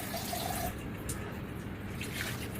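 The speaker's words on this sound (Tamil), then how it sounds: "நான் இப்போ இந்த அளவுக்கு தண்ணி ஊற்றிக்கிறேன்." Water pours steadily into a pan of anchovy fish curry mixture as it is being made, a continuous close liquid rush with no talk.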